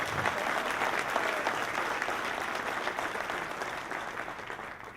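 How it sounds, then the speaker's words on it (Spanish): Audience applause at a business innovation event, a dense, even roar of clapping throughout that tapers slightly toward the end. "Un aplauso."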